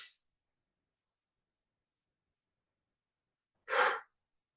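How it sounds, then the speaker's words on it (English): One short, breathy exhale during a morning breathing exercise, close and clear, following a long stretch of silence with only a faint trailing breath at the very start. "And then we're going to inhale."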